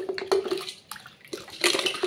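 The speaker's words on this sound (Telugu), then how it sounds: "ఇలా కడగచ్చు, లోపలైతే ఏం కాదు, ఎందుకంటే మనం నీళ్ళు వేస్తాం కాబట్టి" Water sloshing and splashing inside a hot water kettle during washing, in short uneven bursts with clinks against the metal, fairly close.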